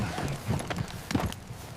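Horses' hooves shuffle and clop on dusty ground, a cluster of soft, uneven steps close by over about two seconds, with no voices.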